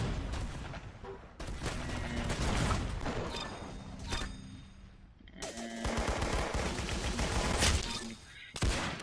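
Rapid automatic gunfire crackles in bursts during an online shooter game, Arsenal, with brief pauses between volleys and a final sharp shot near the end.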